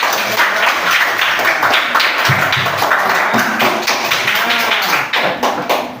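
A classroom audience claps together during a teacher's lesson, producing a dense, loud burst of many hands that holds steady, close by, for several seconds.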